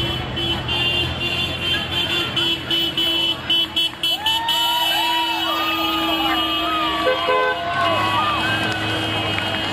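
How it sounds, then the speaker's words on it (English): Cars and trucks pass a roadside July 4th tax protest outside the Indianapolis governor's mansion, sounding several horn toots over steady traffic rumble, with crowd noise and voices in the background. "You can see as the cars go by and honk,"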